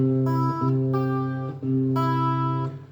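A fingerstyle guitar study: sustained chords that change every second or so, each ringing with bright overtones and brief dips between changes, played alone without speech.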